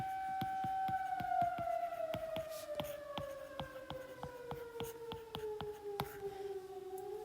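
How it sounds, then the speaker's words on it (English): A fire siren wails, holding a long, slowly falling tone, steady and fairly loud, with a regular ticking pulse running through it. "Again, I apologize for the siren."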